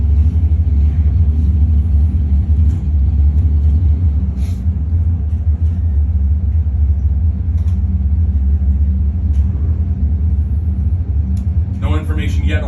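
1967 Chevrolet Nova drag racing car rumbling at the starting line, a deep, steady low rumble under an announcer's voice, with a brief rising engine note near the end.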